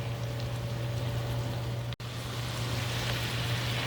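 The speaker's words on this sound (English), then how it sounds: "the shrimp is cooking in there. It's almost ready" Shrimp cooking in a pan for a chicken, sausage and shrimp stir-fry, heard as a soft, even bubbling sizzle over a low steady hum, with a momentary cut near the middle and no voices.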